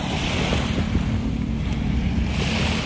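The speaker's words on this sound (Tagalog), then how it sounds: "Wow, ang dagat." Sea waves at Dolomite Beach on Manila Bay wash and surge in a constant broad roar, with wind blowing across the microphone throughout.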